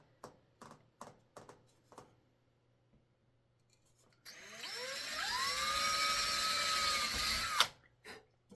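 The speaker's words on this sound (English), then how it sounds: "When you're drilling the holes, try not to push all the way into the back wall of the flute." A hand or power drill bores finger holes into a pre-bored wooden flute kit body, a steady whining buzz lasting about three seconds after a few sharp taps and clicks, close by with no talking.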